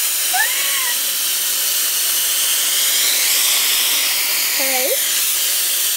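A Dyson Airwrap hair styler blows a steady, loud hiss of air throughout while styling natural hair, with a few brief voice sounds over it.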